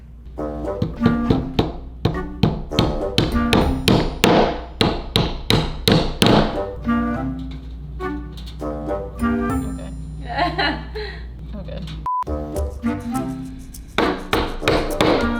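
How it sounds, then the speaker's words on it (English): Repeated hand hammer strikes on staples, sharp metallic taps in steady bursts, close up, with brief pauses and some quiet talk between them. "take your staples individually and hammer them in"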